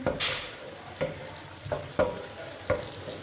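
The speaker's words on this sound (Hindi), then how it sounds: "और प्याज को कर लेंगे लाइट ब्राउन सा" Onions frying in a pan for pea pulao, a steady close sizzle broken by several sharp scraping stirs at roughly even intervals.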